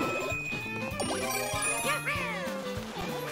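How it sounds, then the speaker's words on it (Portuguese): Bright jingling chime of the bell power-up being collected in Super Mario 3D World on Nintendo Switch, a quick sparkling tinkle over the game's busy music, with no talking. "Vou pegar aqui o sininho."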